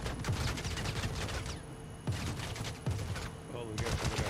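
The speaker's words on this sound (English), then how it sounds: "Who's shooting? Who just shot me?" Repeated gunshots and bursts of automatic fire in the sci-fi game Star Citizen, sharp cracks in quick succession with short pauses between volleys, sitting under and around a voice.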